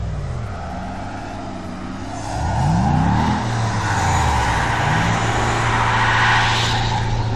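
A Subaru car driving with its engine droning steadily, revs rising and falling in sweeping surges and growing louder midway, heard from inside or close by.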